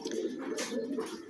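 Pigeons coo in a loft on a rainy day, a soft, continuous low throaty burble from nearby birds with no talk over it.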